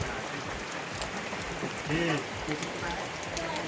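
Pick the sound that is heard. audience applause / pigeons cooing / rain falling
rain falling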